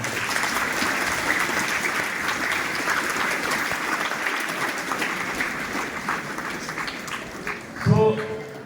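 A large crowd gives a steady, dense round of applause for a Tamil Nadu government school teacher honoured with a state teaching award in Hosur, sustained and even throughout, with a brief voice near the end.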